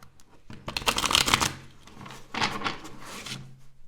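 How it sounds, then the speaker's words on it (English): A deck of tarot cards on cheaper cardstock being ripple shuffled by hand: two close, crisp bursts of rapid riffling flutter, the first longer and louder, separated by a short pause with soft handling noises. "What you can do if you have like cheaper cardstock like this is just switch which way you're shuffling it"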